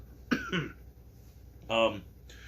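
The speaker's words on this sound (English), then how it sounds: "I just got the cough." Two quick raspy coughs up front, then a longer voiced throat-clearing burst, close to the mic with quiet room noise between.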